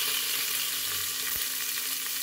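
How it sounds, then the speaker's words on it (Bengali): Potatoes, onion, garlic and ginger for egg biryani frying in hot oil, a steady broadband sizzle that holds evenly throughout with no voices. "এখন ওই তেলে আলু দিয়ে দেবো, পেঁয়াজ, বিরিয়ানির আলু, পেঁয়াজ, রসুন, আদা,"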